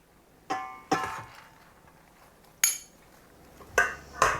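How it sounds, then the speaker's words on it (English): Utensils tossing a peach, spinach and quinoa salad in a bowl, a handful of separate clinks and knocks spaced irregularly over a quiet background, close and fairly light. "we're just gonna give it a nice little mix before we add our dressing, our peach vinaigrette"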